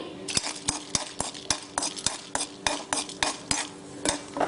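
Black pepper frying in ghee in a pan while a spoon stirs it, a rapid series of metallic scrapes and clinks over a constant sizzle, close up and without speech.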